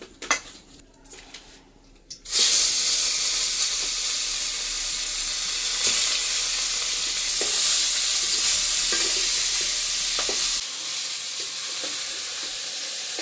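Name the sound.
fish frying in mustard oil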